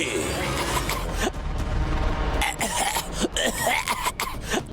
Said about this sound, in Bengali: কিন্তু এই কাশি যে আর নেওয়া যাচ্ছে না